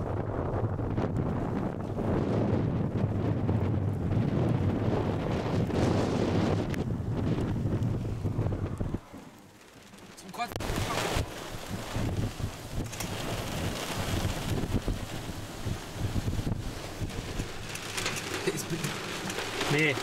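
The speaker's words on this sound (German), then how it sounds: "Boah, starker Wind, so um die 50 Stundenkilometer auf jeden Fall." A strong outdoor wind of about 50 km/h buffets the microphone during storm spotting. The rush is loud and steady, briefly drops away near the middle, then gusts back in.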